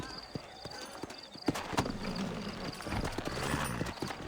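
Horse hooves clip-clop along in the Western video game Red Dead Redemption, a steady patter of light hoof beats under game ambience with a voice talking over part of it.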